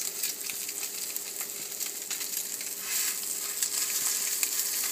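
Pistachio-crusted salmon fillet fries gently in a pan, giving a steady, bright sizzle and crackle throughout with no talking.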